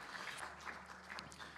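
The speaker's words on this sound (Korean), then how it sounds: "다시 한번 박수로 격려 드리겠습니다" A church congregation at a Sunday service gives brief, steady applause, soft and fairly distant.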